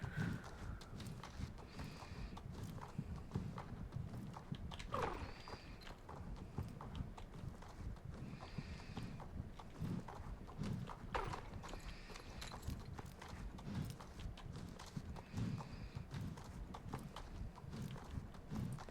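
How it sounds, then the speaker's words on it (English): Hooves clip-clop steadily in the video game Star Stable Online as a horse gallops on, a continuous fast rhythmic drumming with faint voices in the background throughout. "That horse just went straight through a tree."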